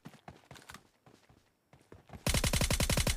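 VSS rifle firing in PUBG Lite, a rapid suppressed burst of about a dozen evenly spaced shots, loud and close, following softer scattered footstep-like taps and movement noises.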